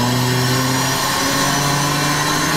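A Nissan 350Z engine in a racing simulator revs loudly and steadily, its droning mid-pitched tone climbing slightly as the throttle is reapplied, close and unbroken with no voices.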